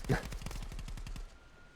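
Rapid automatic gunfire in the VR shooter Contractors VR, a close, loud burst of about a dozen evenly spaced shots that stops abruptly, leaving a faint tail.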